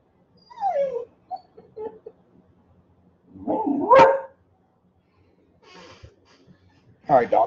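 A pet dog barks and whimpers in a few short bursts indoors, with a loud yelp near the middle and another at the end, separated by quiet gaps and some faint low rumble.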